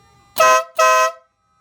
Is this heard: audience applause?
no